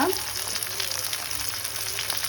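Spices and coriander seeds roast in a hot pan for kaju paneer butter masala, giving a loud, steady, close sizzle and crackle with no talking.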